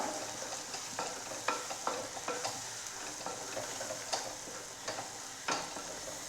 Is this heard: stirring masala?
yes